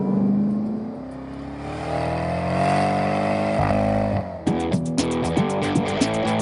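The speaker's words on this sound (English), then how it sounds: "it's got one of the great exhaust notes in American driving today" A 2014 Chevrolet Camaro ZL1 engine roars close by, its exhaust note rising and falling as it revs, then crackling through gear changes.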